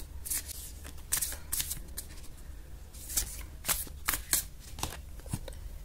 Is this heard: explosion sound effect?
no